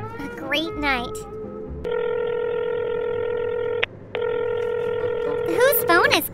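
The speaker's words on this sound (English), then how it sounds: "Whose phone is calling?" A phone rings in a Stikbot stop-motion comedy with two long, steady electronic ring tones split by a brief gap. Voices talk just before and after the ringing.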